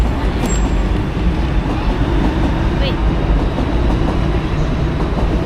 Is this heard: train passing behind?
yes